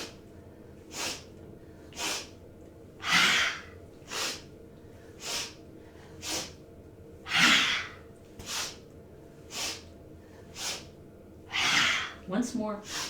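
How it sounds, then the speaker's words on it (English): Breath of joy yoga exercise: a steady series of audible inhales and exhales, roughly one per second, with a few stronger sighing breaths standing out, close and fairly loud. "we'll take some breath of joy practices. Inhale low, inhale sigh, inhale up, and exhale down."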